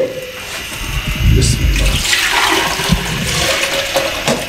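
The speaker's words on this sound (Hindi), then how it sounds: "ये 2 लीटर पानी इसमें शामिल कर दें" Water pours from a two-litre jug into a cooking pot while beef paya is prepared, making a loud, continuous splashing gush that lasts the whole stretch.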